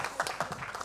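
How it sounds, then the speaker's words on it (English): A studio audience claps for a celebrity guest on a talk show, a brief, fairly faint patter of hands. "let's have a huge round of applause"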